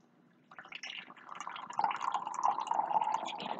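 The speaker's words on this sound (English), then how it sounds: "Shall pour tea." Hot tea pours from a pot into a cup, starting after a brief quiet and building into a steady trickling stream that rises in pitch as the cup fills.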